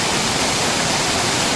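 A steady, dense rush of falling water from a forest waterfall fills the scene, broad and continuous with no pauses, close and fairly loud.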